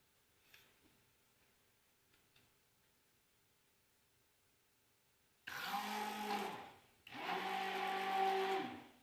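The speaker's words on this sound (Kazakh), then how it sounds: "Енді блендермен араластырамыз." A kitchen blender whirs loudly in two close bursts while mixing a home-made milkshake of milk and strawberries, preceded by a few quiet clicks and near silence.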